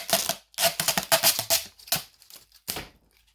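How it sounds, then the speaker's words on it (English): Plastic packaging crinkles and crackles close up as a set of Audexen 4x6 projector-style LED semi headlights is unwrapped, in loud irregular bursts with short pauses. "Everybody's favorite part, the noise from the plastic."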